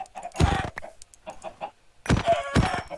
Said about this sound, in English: at least the chickens aren't that much of a pain since they are a lot smaller